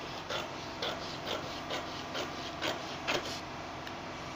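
Quiet, rhythmic rasping snips of scissors cutting through a paper pattern's seam allowance while drafting a princess-dart bustier, about a dozen soft strokes close by, no voices.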